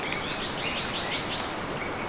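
Birds chirp in the video game Luminescent, built in Unreal Engine 5: a run of quick, bright repeated tweets over a steady, loud hiss of ambient noise.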